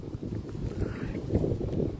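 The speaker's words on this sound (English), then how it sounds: "Oh, it's windy." Wind gusting outdoors around an old derelict area, a steady low rushing roar buffeting the microphone close up, with no clear voices over it.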